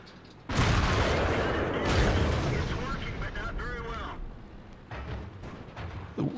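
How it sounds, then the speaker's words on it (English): Tank cannon fire in World of Tanks, with an IS-4 heavy tank hit by high-explosive rounds: a loud booming blast that rolls into a long rumble, followed by smaller bursts, with a voice talking over it. "Another high explosive hit, which is all the IS-4 has left."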